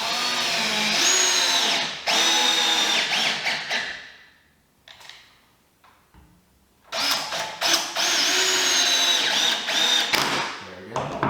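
Power drill driving the final screws into an air hose reel mount, two long whining runs separated by a quiet pause with a few handling knocks, close and loud.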